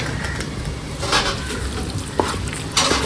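Ingredients for a jackfruit biryani are stirred while they fry in a pan. A steady sizzle continues throughout, with a few scraping sweeps and light clinks from the utensil against the pan.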